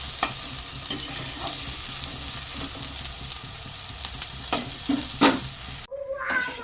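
Rice tossed with ground roasted cumin and garam masala in a hot pan, a steady close sizzle with repeated scraping stirs, ending abruptly in a brief quieter stretch.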